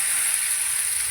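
Lote saag greens dropped into a hot kadai over half-browned frying onions give a loud, dense sizzle that holds steady through a short burst.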